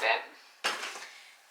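A metal saucepan of walnut ink clinks against metal twice, a light rattle followed by a sharper knock, quiet and close in a still room.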